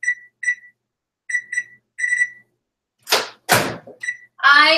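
A timer alarm sounds in short repeated beep pairs and triplets with gaps between them, close and clear, and a voice speaks briefly between the beeps.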